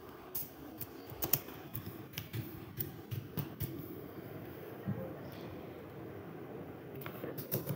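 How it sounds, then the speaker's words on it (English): Keys clack steadily on a computer keyboard while a game is being set up, a run of quick, light taps with louder strikes scattered through, up close and alone with no talk. "So we're gonna type it."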